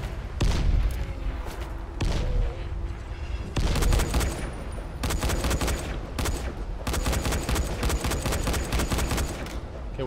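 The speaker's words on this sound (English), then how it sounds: "Throw at least 10 grenades" Repeated grenade blasts and heavy gunfire rage through a Dying Light: The Following boss fight against a mutant zombie, a dense, loud, continuous barrage of booms and rapid cracks with sharp new bursts every couple of seconds.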